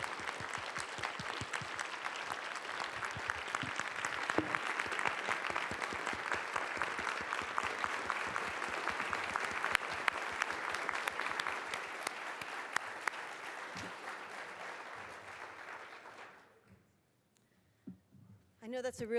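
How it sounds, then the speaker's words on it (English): Sustained audience applause fills a hall after a plenary talk, a dense even clapping that lasts about sixteen seconds, then stops abruptly, leaving near silence with a few faint sounds at the very end. "Please join us in another round of applause for Timothy Bouldry."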